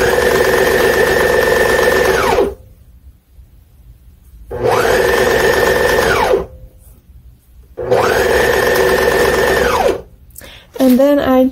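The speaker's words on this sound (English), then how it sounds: "And then I lift my presser foot and I serge it off." Serger stitching and trimming fabric while finishing a sweater romper, running in three loud bursts of roughly two seconds each with short pauses between, the motor whirring up and winding down each time.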